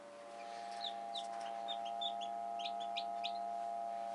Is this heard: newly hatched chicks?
yes